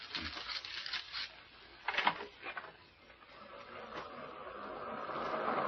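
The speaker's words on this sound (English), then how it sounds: "The surf sounds ominous." Radio drama surf effect of ocean waves, a broad rushing wash that swells and recedes with a louder surge near the middle, rising steadily toward the end, with no talk.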